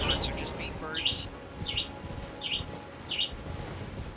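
Two pet birds chirping in a room, a series of short bright calls repeating every half second or so, fairly close, over steady low background hum.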